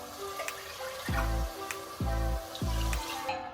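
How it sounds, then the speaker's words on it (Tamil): Three separate pours of water glug into a cooking pot with rice, each a rising gurgle lasting about half a second, close and fairly loud. "2 டம்ளர் தண்ணி ஊற்றிக்கலாம்."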